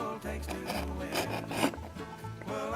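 Leather groover pressed down and drawn through leather to cut a stitching groove, a close scraping rub in a few uneven passes.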